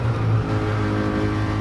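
Nissan Skyline GT-R R34 with 900 horsepower and all-wheel drive in a racing video game, its engine holding a loud, steady high rev with a dense droning tone and no talking.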